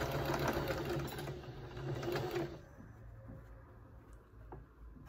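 A sewing machine stitches a quarter-inch seam in fabric: a close, busy mechanical whir for about two and a half seconds, then quieter handling noises.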